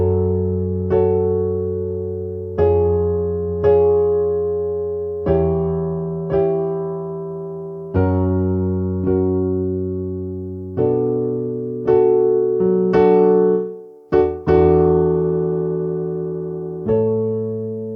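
Piano chords played one after another in a steady, unhurried progression, each chord struck and left to ring before the next, with no voices.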